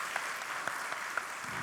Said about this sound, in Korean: 다시 한번 큰 박수로 축복해 주시기 바랍니다.